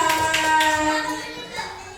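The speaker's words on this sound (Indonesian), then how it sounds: "tepuk tangan untuk yang kedua" Children in a classroom coding lesson clap their hands in a few quick bursts over a steady humming tone, with the room's background noise underneath.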